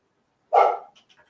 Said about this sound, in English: your service dog might think it's someone knocking at the door and goes barking across the room just like she did